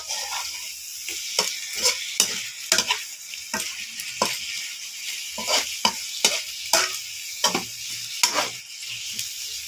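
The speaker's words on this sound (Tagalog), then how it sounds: "Ang ating niluluto ngayon, butter garlic prawns" Butter garlic prawns frying in a pan, a bright close sizzle broken by frequent sharp scrapes and taps of a spatula stirring in uneven rhythm, no voices.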